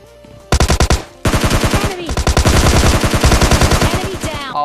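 Loud automatic gunfire rattles in a battle royale video game. A short burst is followed by a brief gap, then a long, continuous stream of rapid shots that dominates the whole clip.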